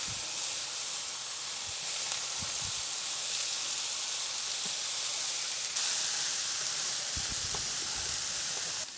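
Garlic sizzles in butter with wine and fish nearby in a pan on a grill, a soft continuous hiss and crackle heard alone at low level with a few faint knocks.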